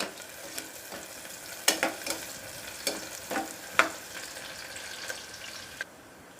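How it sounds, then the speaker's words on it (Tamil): Crushed garlic and small shallots sauté in a pan for a country chicken curry, a soft continuous sizzle broken by occasional spatula taps and scrapes at uneven intervals. "சின்ன வெங்காயம் போட்டுடலாம். இதை நல்லா வதக்கிடலாம்."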